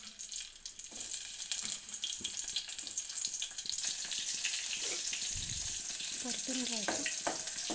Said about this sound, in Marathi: तेल तापलं आहे. त्यामध्ये बारीक चिरलेला कांदा,